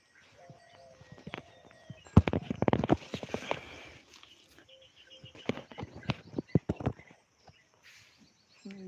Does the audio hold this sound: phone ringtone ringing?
no